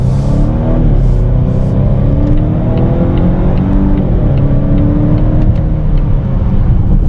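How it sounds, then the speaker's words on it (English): A 2022 Volvo XC60 B6 R-Design SUV accelerates onto the highway, its engine and road noise forming a loud, steady in-cabin drone with rising and falling engine pitch. "So now accelerating, getting onto the highway right here."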